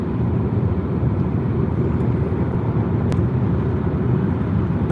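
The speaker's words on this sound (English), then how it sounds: "it's a bit more traffic than I'm used to" Steady road noise from a car driving in fairly heavy traffic, a continuous loud low rumble of engine and tyres with passing vehicles blending in, no talk.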